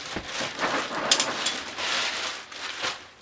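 Crinkling plastic packaging being handled while unboxing a new drum kit, a steady broadband rustle with irregular crackles and a few sharper crinkles, close and fairly loud, no talking.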